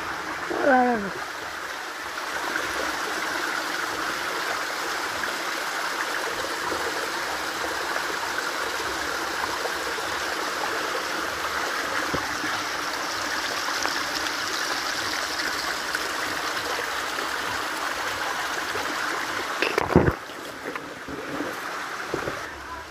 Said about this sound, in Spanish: Aquí va bajando el agua.